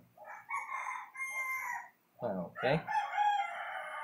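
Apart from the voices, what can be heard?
rooster crowing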